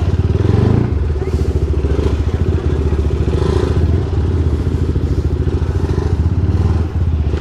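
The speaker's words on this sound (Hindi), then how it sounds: "तो चलो भाई निकालो बाइकें।" Motorcycles idle and rumble close by at night in Delhi as the bikes are brought out to leave after dinner, a steady throbbing engine note with occasional clatter and thumps.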